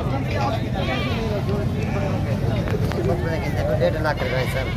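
Goats bleat in short wavering calls at a busy goat market in Dera Ghazi Khan, mixed into a constant crowd babble with people talking throughout.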